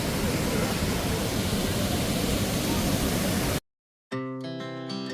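Rushing water pours steadily at Manavgat Waterfall in Side, Turkey, a dense, loud, close roar that cuts off abruptly near the end and gives way to music.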